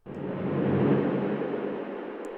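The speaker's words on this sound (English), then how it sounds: "I send this sound into this return, which contain the reverb" A dense, noisy synth tone swells in and holds steady, washed in reverb that sustains without fading for the whole stretch.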